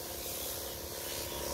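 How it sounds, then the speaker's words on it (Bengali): Fungicide sprayed onto ginger plants against root rot, a brief steady hiss of spray. "এই গোড়া পচা রোগের ছত্রাকনাশক দিতেছি।"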